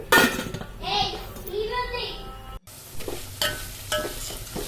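Tempering (popu) for pulihora sizzles in a pan and is stirred, giving a bright crackle with occasional clinks. A voice is heard over the first half.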